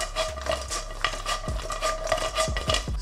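Garlic and chips being mixed in a pan, with close utensil scrapes and clinks against metal over a light sizzle, irregular strokes throughout.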